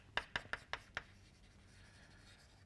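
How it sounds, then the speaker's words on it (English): Five quick pen or chalk strokes of lecture note-writing land in a brief cluster near the start, then fade into a quiet room hush. "So so let me write that down."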